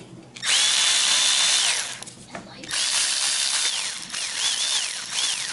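A Milwaukee M12 cordless ratchet spinning in two loud, whirring bursts with a rising and falling motor pitch, then short blips, close by with light handling noise.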